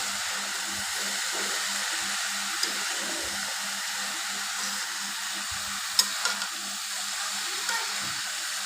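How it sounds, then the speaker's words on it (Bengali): Chopped red amaranth greens are stirred with potatoes in an oiled pan, making a soft continuous sizzle with faint scraping and occasional light clinks, close and fairly quiet, without speech. "শাকগুলো দিয়ে আমি একটু নেড়ে চেড়ে নিচ্ছি আলুটার সাথে বেশ ভালোভাবে।"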